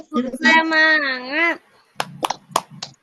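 Children give a rhythmic spirit clap in a classroom: a drawn-out chanted voice comes first, then a quick run of about five sharp, fairly close hand claps in an uneven pattern.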